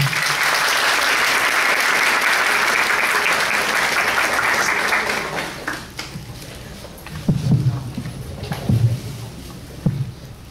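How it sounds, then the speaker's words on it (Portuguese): An audience at a Spiritist lecture in tribute to Kardec applauds in a dense, steady burst for about five seconds, then fades to a few scattered claps and room noise. "Os aplausos de vocês"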